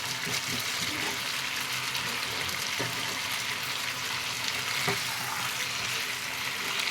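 Potatoes frying in a pan with salt and turmeric, a continuous close sizzle with occasional stirring clicks and scrapes, no voices.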